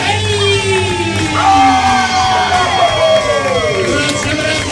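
Loud live crowd cheering, whooping and yelling as players are brought to the stage at a main event, a dense roar with a sliding musical sweep and an announcer's voice over it.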